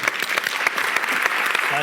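An audience at a creativity talk breaks into brief applause, a dense burst of clapping with individual claps standing out, heard close and fairly loud for under two seconds.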